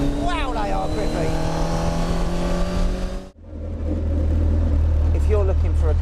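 A car powered by a first-generation Hayabusa motorcycle engine on 888R tyres, loud high-revving engine whine rising and falling, cutting out abruptly midway before a lower throbbing drone takes over, with a voice talking over it.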